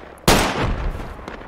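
Gunfire in the video game Project Reality during a winter bushfighting squad battle: a loud burst erupts abruptly and rolls into a long, noisy decay of sustained firing and echo, with a faint later crack.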